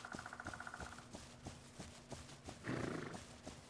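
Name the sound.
horse neighing and hooves in video game The Legend of Khiimori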